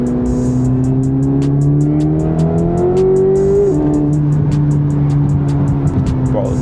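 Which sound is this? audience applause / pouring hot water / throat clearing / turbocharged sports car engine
turbocharged sports car engine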